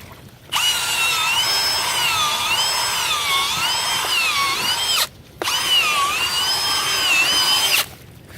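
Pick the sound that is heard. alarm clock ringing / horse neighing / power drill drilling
power drill drilling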